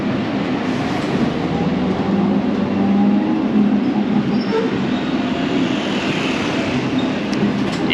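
Steady loud rumble of a Hong Kong tram in motion, heard from on board, with continuous low rolling and rattling from wheels and carriage running throughout, and no talking.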